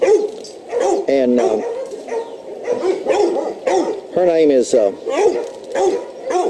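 Several dogs in a kennel yard bark and yip in repeated bursts, close and loud, with some whimpering, while someone talks over them throughout.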